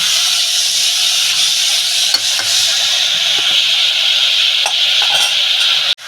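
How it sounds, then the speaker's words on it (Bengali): Fried eggplant tossed into a loudly sizzling pan, a dense continuous hiss and frying roar with occasional faint spoon clinks, close and loud throughout, ending abruptly, no talking. "কষাবো তারপরে আমি হলুদ সাজা বেগুন দেবো"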